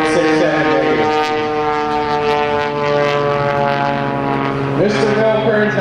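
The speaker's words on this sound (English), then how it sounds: "Now the aircraft pivoting around. the opposite direction of the propeller." A loud aerobatic propeller airplane performs a torque roll at an air show, its engine droning steadily with a strong harmonic tone that shifts pitch near the end.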